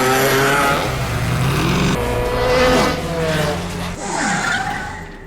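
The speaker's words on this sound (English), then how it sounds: "Unfortunately, Denon's racing car had an accident." A racing car skids during an accident, tires squealing loudly over a roaring engine for several seconds, the screech shifting in pitch as the car slides.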